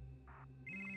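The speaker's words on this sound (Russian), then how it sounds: "Телефон." A telephone rings with an electronic ringtone, steady tonal chirps that rise in pitch and grow louder partway through, heard alone and fairly clear.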